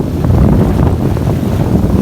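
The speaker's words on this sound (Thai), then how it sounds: "ดูคลื่นดิ" Ocean waves washing up on the beach at Cha-am, a steady broad roar of surf mixed with gusting wind buffeting the microphone, loud and continuous with no talking.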